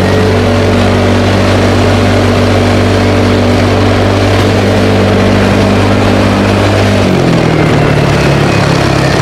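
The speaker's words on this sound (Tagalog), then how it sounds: "Kasi may ingay yung motor natin eh. Naka-muffler kasi tayo." A steady, loud motorcycle engine with a muffler drones continuously at close range, its low hum holding even before dropping in pitch near the end.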